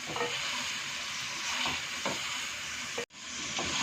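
Chicken frying over high heat in a pan for chicken karahi, a steady close sizzle and hiss with a few faint stirring knocks and one brief break near the end.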